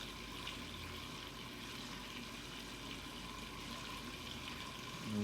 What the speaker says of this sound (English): And there we go, filter starting up for the first time.